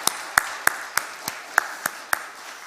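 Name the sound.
congregation applauding in church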